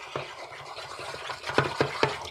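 A toothbrush stirs a batch of failed slime, giving wet, scrubbing squelches with several sharper sticky strokes near the end, close and fairly loud against a hissy background.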